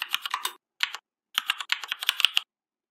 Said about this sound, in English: Then type the password and click on sign in button.